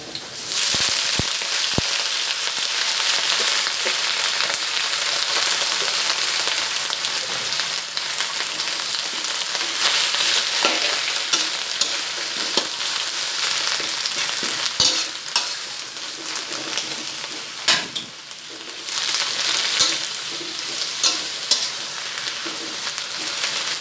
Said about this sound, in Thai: อันน้ำมันไม่ต้องร้อนเราก็ใส่กระเทียมลงไปเจียวนะคะ เจียวให้มันเหลืองหอมพก่อนนะคะ